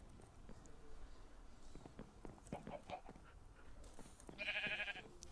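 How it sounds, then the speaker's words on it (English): An explosive sheep in the video game Farm Hunt lets out one loud, nasal bleat near the end, after scattered game clicks and soft footstep-like taps over a steady background hiss. "I hear the explosive sheeps."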